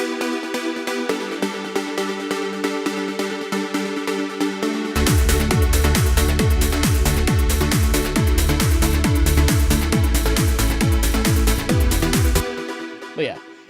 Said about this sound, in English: why not make a video about the pluck section, since I'm doing that portion of the melody